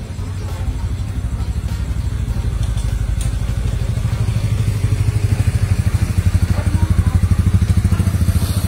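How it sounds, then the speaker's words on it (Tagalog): Motorcycles running on a street, a loud, close, continuous engine rumble with a throbbing pulse that rises slightly as one passes, with some faint clatter in the background. "yung mga motor, and it shows na nasa gitna po tayo ng kalsada"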